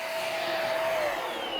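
A vacuum cleaner running during cleaning of a men's dormitory room at a coast guard training academy, a loud, steady whirring hum with a slowly sliding motor whine, close by and with no voices.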